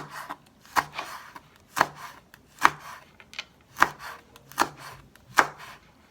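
A knife chops red chili peppers on a cutting board while green onion kimchi is being made, with about seven crisp, evenly spaced thuds close by and no talking.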